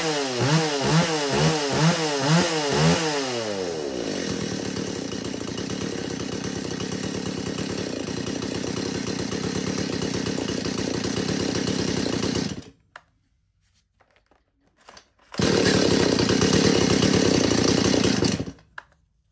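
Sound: Japanese-import chainsaw running

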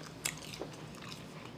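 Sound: biting and chewing seasoned Backyard Burger's fries

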